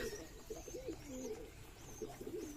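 Pigeons coo softly and repeatedly nearby, their low throaty calls overlapping in a continuous murmur.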